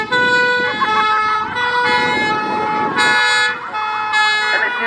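Fire engine siren at a steam engine rally cycling through different tunes, including European-style two-tone patterns and wailing sweeps, loud and close, with rapid pattern changes and a vehicle engine running beneath.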